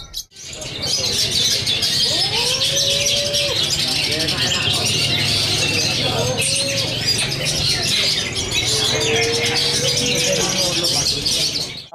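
A young cendet (brown shrike), just weaned, gives repeated chirps and short squawking calls over a loud, busy, hissing background that continues throughout.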